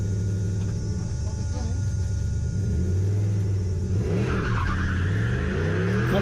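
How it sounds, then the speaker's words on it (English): A turbocharged 1UZ drag car launches at Santa Pod with repeated wheel spin, a loud sustained engine roar climbing through gears with tire noise, close and dominant throughout. "That's it, we're launched. Wheel spin first, wheel spin second, wheel spin third."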